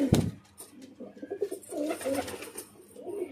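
A blue satinette female pigeon coos nearby: soft, rolling low coos repeat steadily for a few seconds, opening with a brief louder flutter or knock.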